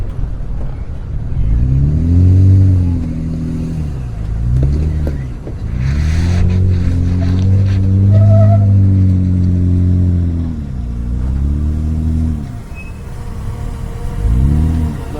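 A 2023 Honda Pilot Trailsport's engine rises and falls in loud, sustained revs as it crawls over rocks on the Hell's Revenge off-road trail, with several surging pulls close by.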